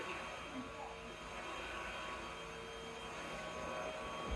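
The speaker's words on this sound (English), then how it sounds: "here comes the vacuum." A steady, droning vacuum cleaner runs continuously at moderate distance, its motor hum unbroken throughout.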